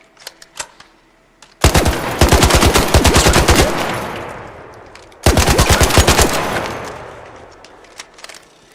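Two long bursts of rapid automatic gunfire in the shooter Arc Raiders, loud and close, each stream of shots rattling for about two seconds before fading out, with a brief pause between them.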